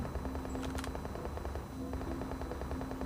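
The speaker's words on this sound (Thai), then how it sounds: "มีคนยิงผมนะเมื่อกี้" Gunfire in PUBG Mobile: a few sharp, distant-sounding shots around the middle of the stretch, set against steady in-game ambience and a constant hum, with no talk.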